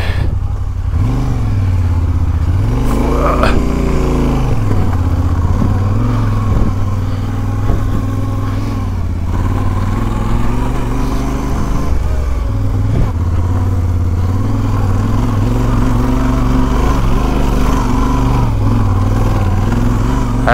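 A motorcycle on a round-the-world ride through Angola labours up a hill, its engine droning loud and close for a long stretch, pitch rising and dipping as the revs change, with occasional clattering.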